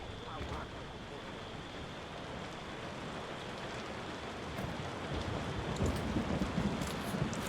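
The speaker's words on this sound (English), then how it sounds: "Seems we're in for a rainy night." Rain falling on a rainy night in Tavern Keeper, a steady hissing wash that swells slightly louder toward the end, heard alone.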